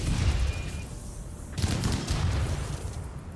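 Sustained gunfire in RimWorld keeps hammering away at a termite, a dense, continuous burst of shots with no pauses, loud throughout.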